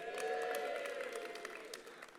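Delegates at the GMB Congress applaud and cheer, a steady wash of clapping from a large hall crowd with some sustained vocal cheering over it, fading slightly toward the end.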